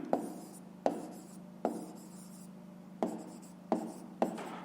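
Pen strokes on paper during a handwritten fifth-grade maths exercise: soft, close scratching that comes as a series of separate strokes, each starting sharply and fading, over a quiet background.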